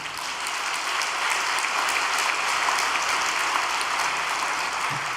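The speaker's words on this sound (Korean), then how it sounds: "이 시간 감사의 박수를 한번 올려주시기 바랍니다" A congregation at a Korean all-night devotional prayer gathering gives a sustained round of thankful applause, an even, crowded patter of many hands holding steady for several seconds without voices.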